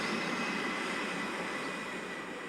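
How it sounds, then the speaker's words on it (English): Airplane engine whirring overhead: a steady, full-bodied drone with a faint high whine, fairly loud and continuous, easing only slightly over a couple of seconds. "A plane whirs overhead and leaves a clean contrail in its wake."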